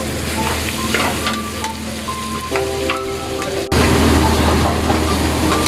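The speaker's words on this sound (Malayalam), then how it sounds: "തക്കാളി ഇതേപോലെ അരിഞ്ഞത് ഇടുക. ശേഷം ഒന്ന് വീണ്ടും ഫ്രൈ ചെയ്തെടുക്കുക." Chopped tomatoes sizzle and fry in a pan while a chicken curry is cooked, a steady close hiss that swells louder partway through, with a faint low hum underneath and no talking.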